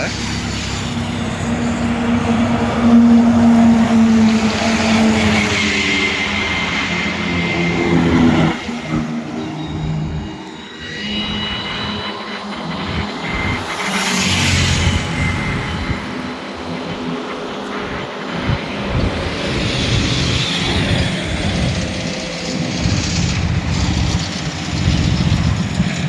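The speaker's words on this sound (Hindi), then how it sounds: "आर्मी वालों का गाड़ी आ रहा है।" Army trucks pass along a national highway, their engine drone and tyre roar loud and steady with a tonal whine early on, while people talk over the traffic.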